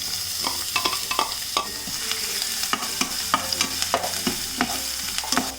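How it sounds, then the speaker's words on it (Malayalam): Chopped ginger, garlic and green chili frying in hot coconut oil: a steady sizzle with frequent sharp spoon scrapes and taps against the pan, close and clear, no voices. "ഇതിലേക്ക് നമ്മൾ ഈ ചോപ്പ് ചെയ്ത് വെച്ചിരിക്കുന്ന ഇഞ്ചി വെളുത്തുള്ളി പച്ചമുളക് ഇട്ട് കൊടുക്കാം."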